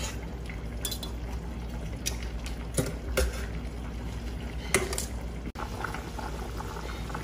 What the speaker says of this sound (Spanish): Le vamos a agregar una taza de agua para que quede espesita y no nos vaya a quedar muy aguada esa salsa